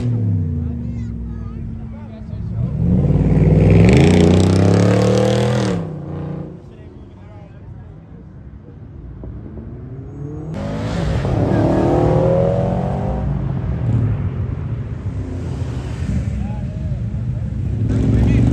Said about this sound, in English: This was the loudest car at the car show today.